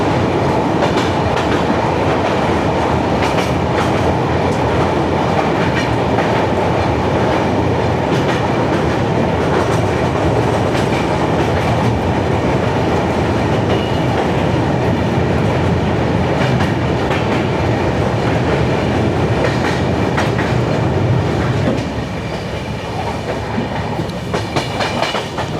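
A 12284 Duronto Express crossing the Ulhas River bridge, heard from inside an AC 3-tier coach: a loud, steady rumble with rhythmic clickety-clack of the wheels that eases slightly near the end, with no talk.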